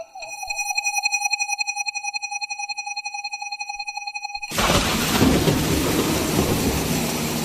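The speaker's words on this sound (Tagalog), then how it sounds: "Ang lakas ng ulan" Heavy rain pours as a loud, steady, dense wash that cuts in sharply partway through, after a stretch of pulsing tonal hum; there is no distinct thunder crack.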